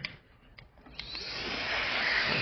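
An air blower is used to clean out a computer. A few faint knocks come first, then the blower starts up and builds into a steady, rushing whoosh that grows louder and fills the rest of the clip.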